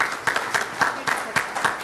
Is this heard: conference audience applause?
yes